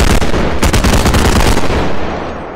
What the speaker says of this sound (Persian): خیلی صدای تیرت زیاده